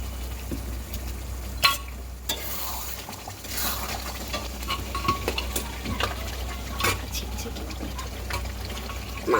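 Pieces of partly boiled meat are lifted one by one from the pot and dropped into a sizzling spice mixture in a home kitchen, with soft splashes, utensil clinks and a steady fry hiss throughout.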